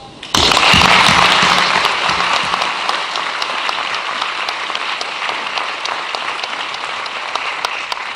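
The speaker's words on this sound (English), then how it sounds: "Let's give our graduates a tremendous round of applause." Graduation ceremony audience bursts into sustained applause, starting abruptly and holding loud, dense clapping that eases slightly toward the end, alone without speech.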